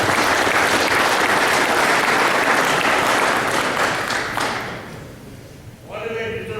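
Applause from a crowd of crewmen greeting the captains at a meeting, dense steady clapping for about five seconds that thins and fades out.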